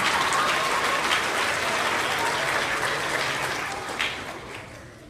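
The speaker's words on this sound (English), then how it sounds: "let's give George Holzberg a great big round of applause" An audience at a school awards ceremony for third and fourth graders gives a sustained round of applause for a student winner, with dense clapping that slowly fades toward the end.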